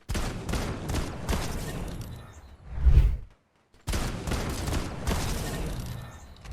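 Frenzy shotgun firing in Fortnite, a burst of rapid loud blasts followed by a heavy boom, a brief silence, then another fast string of shots, with no talking.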